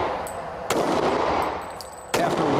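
Pistol shots at a police duty weapon qualification on a firing range, two loud, sharp reports about a second and a half apart, each followed by a lingering noisy echo.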